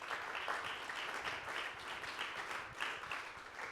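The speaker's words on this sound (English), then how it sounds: "can we have a round of applause for the selection committee?" An audience at a nonprofit pitch event gives a round of applause, a moderate, steady crowd clapping with slight swells throughout.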